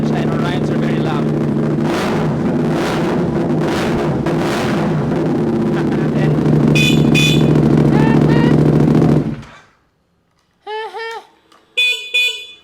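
CF Moto 450SR motorcycle engine running with an open pipe exhaust, a loud steady idle rumble that cuts off abruptly, followed by a few short electronic beeps.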